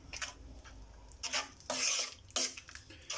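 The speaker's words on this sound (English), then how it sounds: "Make sure everything's stirred up." Chilli being stirred in a pot as it heats up: a few quick scraping clinks of a utensil against the pot, with two louder scrapes close up, over a low background.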